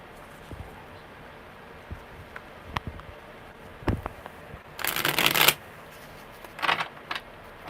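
Tarot cards being shuffled by hand, with scattered soft taps and handling, then a dense riffling burst and a shorter second riffle, close and without voices.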